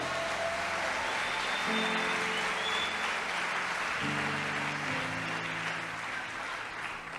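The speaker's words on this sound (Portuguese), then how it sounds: "Pode aplaudir a Jesus se você crê nisso." A church congregation applauds at a worship service, a steady broad wash of clapping with sustained organ or keyboard chords underneath.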